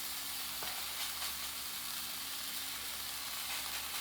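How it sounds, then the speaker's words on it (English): A bread slice for grilled cheese sizzles in a hot pan, giving a steady, close, even frying hiss that runs alone throughout with no talking. "Take your first slice of bread, put it right in there. You should hear it immediately start to sizzle."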